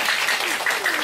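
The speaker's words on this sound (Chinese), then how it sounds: "给这个小朋友掌声鼓励一下" Audience applause for a child at a children's science demonstration on an iodine colour-change reaction, a brief burst of steady, close clapping from a room of people.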